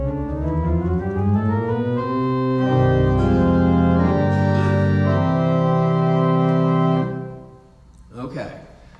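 Pipe organ at the First Congregational Church of Walpole, New Hampshire, with its 8-foot, 4-foot and 2-foot stops combined, playing a loud, full sequence of sustained chords that swell and then stop, followed by brief speech.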